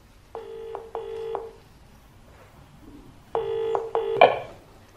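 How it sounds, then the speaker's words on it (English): Two short bursts of telephone keypad dialing tones, each a quick run of stacked beeps, then a pause and two more bursts closing on a brief ring-like tone, near and clear with no talk. "I think I'll phone my friend, Danny."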